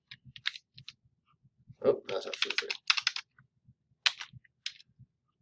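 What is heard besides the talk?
typing on a computer keyboard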